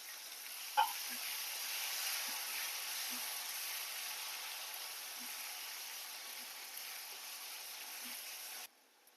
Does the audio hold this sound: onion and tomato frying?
yes